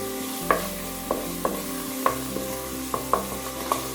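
Spices and Pixian soybean paste are stirred in hot oil in a pot, with a steady sizzle under repeated scraping strokes of a utensil at a slow, uneven rhythm, close and fairly loud, no talking.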